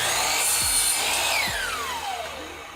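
Power tool trimming one end of a wooden drawer side, a loud continuous high whine with a falling pitch as it cuts, steady and close with no speech.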